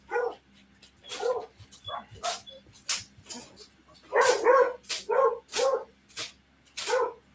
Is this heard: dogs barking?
yes